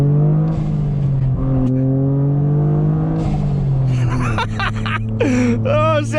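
A modified 2024 Toyota GR Corolla's 1.6-liter three-cylinder engine runs close by, holding a steady idle hum before rising and blipping through sharp revs near the end.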